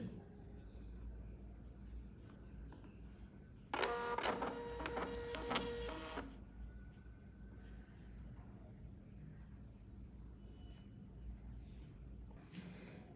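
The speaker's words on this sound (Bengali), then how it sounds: "আমরা যদি এটাকে প্রিন্ট দিই এবং এটিকে যদি আমরা কপি যে তিন কপি করে দিই দেখুন প্রিন্ট দিলে কেমন আসে" An HQ300 label printer prints three sticker copies. It makes one loud burst of mechanical whirring and feeding that lasts about two seconds and then stops, against quiet room tone.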